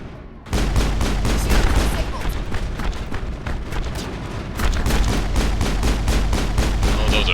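Turrets firing in Mass Effect, a sci-fi shooter game: dense, rapid automatic gunfire hammering continuously and loudly with heavy low rumble, starting abruptly and sustaining throughout without a break.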